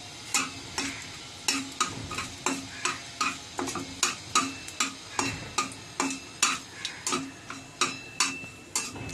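Dried red chilli and panch phoron fry in oil for a chutney, with a steady run of sharp crackles and pops over a low sizzle, close and fairly evenly spaced.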